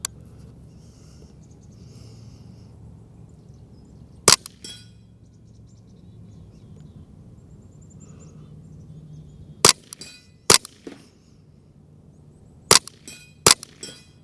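Ruger Charger 10/22 with a 9-inch threaded carbon-fibre barrel firing CCI subsonic rounds outdoors, several sharp, brief muffled cracks spaced seconds apart, some in quick pairs, over faint background quiet.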